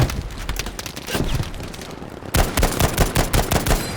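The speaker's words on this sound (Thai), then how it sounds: "ไล่ยิงไปก่อน" Automatic gunfire in Battlefield V, loud and close, in rapid repeated bursts throughout, growing denser and more rhythmic in the second half.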